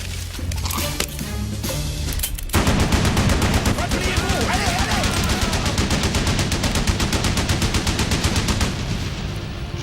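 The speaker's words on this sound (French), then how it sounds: "J'ai entendu les coups de feu" Dense, rapid automatic gunfire in an action film about a lone mercenary, a sustained rattling burst of closely spaced shots that starts abruptly after a brief lead-in of scattered noise and shouting.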